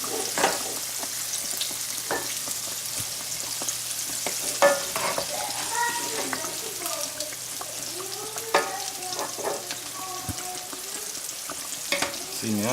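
Cajun-seasoned shrimp and catfish fillets fry in hot oil, giving a steady, close sizzle broken by sharp pops and bubbling crackles throughout.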